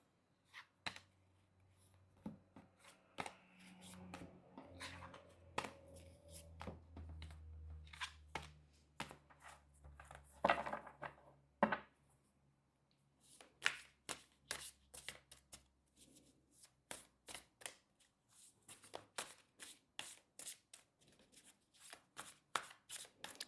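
Tarot cards are shuffled close up, a soft, quiet riffling that breaks into rapid, regular flicks and taps of cards being cut and stacked, with no talk.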